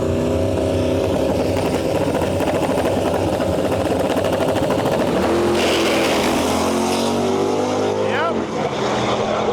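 A Datsun makes a drag racing pass at a dragway, its engine roaring loud and high as it accelerates hard, then receding with a falling pitch, while a voice briefly speaks over it.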